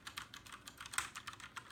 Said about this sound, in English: I was immediately typing on this thing